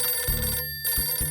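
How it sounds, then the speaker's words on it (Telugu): A cartoon telephone rings in short bursts, a bright electronic trill broken by a brief silence and then resuming, loud and close. "దయచేసి ఫోన్ ఎత్తద్దు. కన్నా సార్ లైన్ లో ఉండుంటారు."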